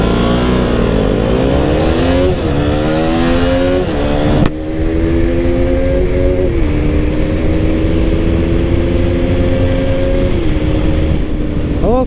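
A KTM RC 200 motorcycle accelerates hard in a pickup test. Its loud, close engine climbs in pitch through repeated revving sweeps, then breaks off briefly and rises again under a steady drone.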